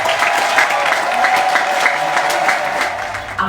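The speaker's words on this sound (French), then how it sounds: "Acclamons très fort." A church congregation applauds after priestly ordinations in the diocese of Mouila, a dense, steady wash of clapping from many hands filling a large space, sustained for a few seconds before tapering off.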